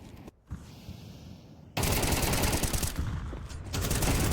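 Rapid gunfire bursts ring out during a Counter-Strike match kill, dense automatic fire filling the clip after a quieter opening, loud and sustained with brief dips.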